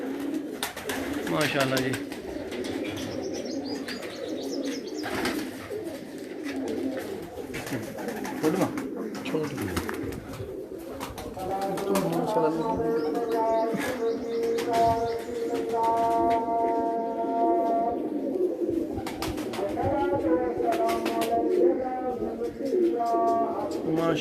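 A racing pigeon bred at someone's home in Mianwali, due to fly in a tournament, coos repeatedly in soft throaty bursts close by, with someone talking over and between the calls.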